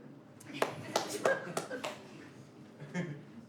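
At a Kazakh stand-up comedy show, a handful of audience members give a few scattered, sparse claps at moderate distance, lasting only a couple of seconds.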